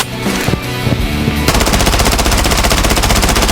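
Sustained automatic rifle spray in the video game Blood Strike, a dense rapid stream of loud shots that thickens into a continuous roar partway through, with no talk over it.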